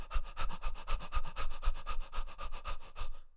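A person panting fast and audibly as a breathing exercise, steady rapid rhythm of about six breaths per second, close and dog-like, with no talking.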